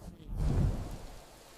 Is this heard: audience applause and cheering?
no